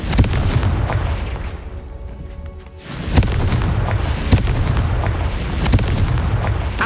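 A Confringo blasting curse in Hogwarts Legacy sets off loud booming explosions, with repeated heavy blasts and a short lull before the detonations resume.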